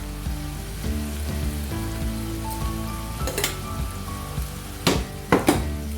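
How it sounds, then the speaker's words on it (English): Masala sizzling and frying in a pan for a no-onion, no-garlic chana dish, a steady crackling hiss with faint stirring and a couple of sharper clatters near the end, no talk. "Let's fry the masala now"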